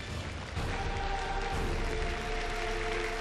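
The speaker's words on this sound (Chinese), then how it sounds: "来，掌声有请。" Studio audience applause on a Chinese relationship-advice TV show: a steady, even wash of clapping that holds throughout, moderately faint, with no voices over it.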